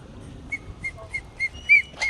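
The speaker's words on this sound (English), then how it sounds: "You must like the whistle, huh?" At Sylvan Heights Bird Park, a series of six short, clear whistles sounds in an even rhythm, each a brief bright tone with quiet gaps, the last ones louder.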